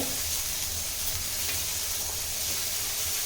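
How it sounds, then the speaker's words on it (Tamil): Drumstick flowers sautéing with salt in a pan, giving a continuous close hiss and sizzle with faint stirring underneath, steady throughout and free of speech. "இப்போ இதை நம்ம நல்லா வதக்கிக்கலாம்"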